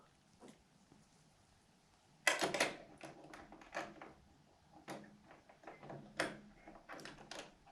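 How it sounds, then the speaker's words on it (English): A door swings shut indoors with a sharp knock near the start, then a run of lighter thumps, clicks and rattles of handling, close by and fairly quiet with no speech. "Let's close the door."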